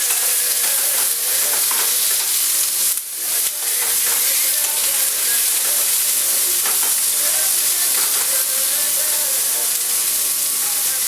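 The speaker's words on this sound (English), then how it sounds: "And give those a mix around in your pan." Green beans stirred and sautéed in a pan, a steady loud hiss of frying with occasional utensil scrapes running throughout, close up and without speech.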